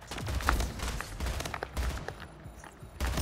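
Rapid SMG fire in the Splitgate video game comes in dense, loud bursts with short pauses, close and steady across the whole stretch.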